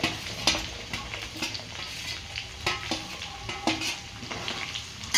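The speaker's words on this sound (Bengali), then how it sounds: "ঢেলে দেব আমার কেটে রাখা পেঁয়াজগুলো" Chopped onions sizzle and fry in a pan for a Bengali mixed vegetable sabzi, with a spoon stirring and scraping against the metal at an irregular rhythm, close and continuous.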